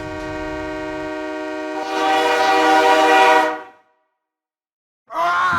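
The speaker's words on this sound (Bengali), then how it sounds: "হুইসেল বাজিয়ে তীব্র গতিতে একটা ট্রেন এগিয়ে আসছে" A train whistle blows a long sustained harmonic blast as the train rushes in fast, a loud roaring rumble swelling beneath it, then cutting to silence before a brief second burst of whistle.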